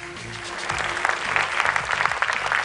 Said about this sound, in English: let's just give a round of applause for Manka's father